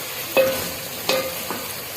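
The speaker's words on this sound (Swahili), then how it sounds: "Utaikoroga uache for some minutes hivi hiyo tomato paste." Tomato paste fries in a pot for githeri, giving a low, steady sizzle broken by a few sharp scraping stirs of a spoon against the pot, with no talking.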